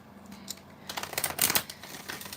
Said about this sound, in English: I just want to give these a couple extra shuffles